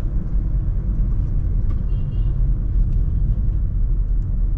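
A car's engine and road rumble hold steady from the cabin in third gear, a continuous low drone that stays loud and even throughout with no voices.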